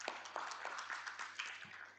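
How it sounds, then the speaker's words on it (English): An audience at an insurance company's annual general meeting claps in a scattered round of applause, faint and distant, with irregular individual claps over a low hum. "Another round of applause to Mr."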